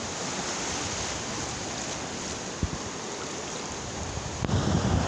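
Ocean waves washing in at Venice Beach, recorded from ankle-deep water well out from the shore: a continuous broad rush of surf and wind buffeting, with a louder swell of water near the end.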